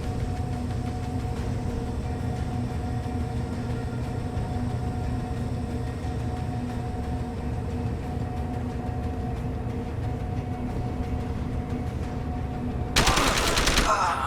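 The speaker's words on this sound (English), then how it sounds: "Pebble, is somebody shooting?" Sustained automatic gunfire from Deus Ex: Human Revolution rattles on continuously over a droning hum, ending in a louder, brighter burst near the close.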